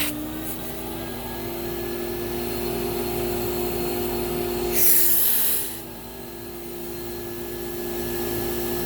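A Thermax AF120 vacuum cleaner runs during a suction test, a steady loud whirring drone with a brief sharp rush of air midway as suction changes, then settling back to a constant hum.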